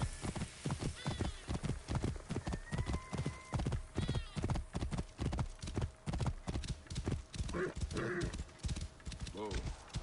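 Horse hooves clip-clop in a quick, steady rhythm with a whinnying neigh in Assassin's Creed Origins, close and loud, while someone talks over the galloping.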